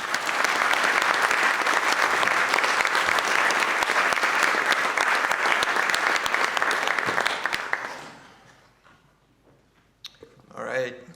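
An audience at an art symposium applauding to welcome a speaker, dense steady clapping for about eight seconds that fades out, followed by a brief soft murmur.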